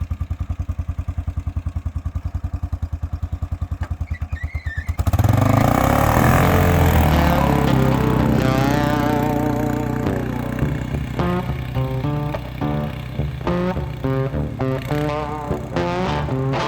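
A 2000 Kawasaki Prairie 400 4x4 ATV engine putters in a steady, close idle for about five seconds, then roars into loud, rising and falling revs as it tears around a horse arena on a hot lap.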